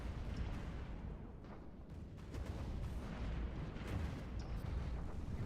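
Torpedoes launching and detonating in a Stellaris space battle, a loud, continuous rumble of overlapping explosions and bursts with no voices.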